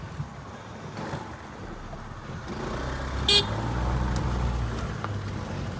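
A car travels along a forest road near Cola Beach, Goa, with a steady low engine rumble that builds midway and one short sharp horn toot.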